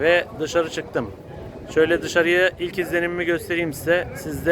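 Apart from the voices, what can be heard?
No everyday noise stands out behind the speech.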